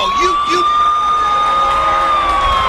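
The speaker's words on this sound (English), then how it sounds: "I know that entrance music and I know that siren" A wailing siren blares loudly and steadily as part of the entrance music at a TNA wrestling event, over a roaring crowd.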